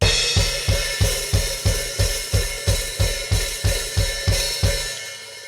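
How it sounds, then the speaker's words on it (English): Drum kit playing a steady pulse of kick drum hits, each paired with a crash or an open hi-hat, about thirteen even beats with the cymbal wash sustaining between them, loud and close with no talking. "you go kick with the crash and then kick with the open hi-hat."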